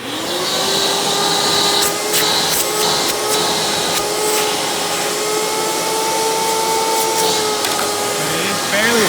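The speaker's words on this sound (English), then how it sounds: "Now the suction from this is really not high because this is a direct air based vacuum." A Hoover Breathe Easy U5104-900 upright vacuum cleaner runs steadily and loudly throughout, a constant whining drone with faint rattles.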